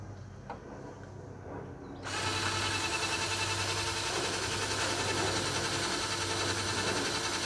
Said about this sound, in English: I'm gonna try to drill that one out too.